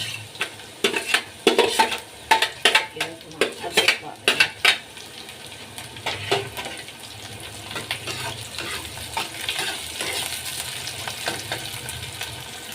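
Onions and green chillies fry with a steady sizzle in a pan, broken by a run of sharp spatula scrapes and clinks early on, then a softer continuous crackle; a voice is faintly present.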